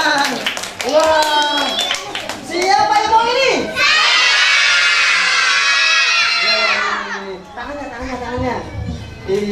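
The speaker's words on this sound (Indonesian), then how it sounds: "kasih tepuk tangan" Children clapping during a clown show in Pemalang, Central Java, with bursts of hand claps amid excited young voices and crowd noise, then a sustained cheering shout from the kids.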